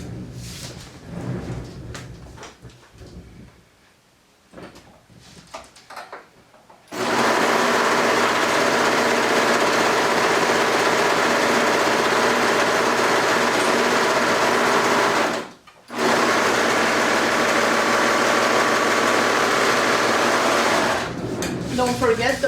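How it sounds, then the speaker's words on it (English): A serger sewing machine stitches a cardigan seam in one long, steady, whirring run of about eight seconds. It stops briefly, then restarts and runs again. Softer handling noises and brief talk come before the stitching. "I'm gonna go ahead and do a quick serger stitch."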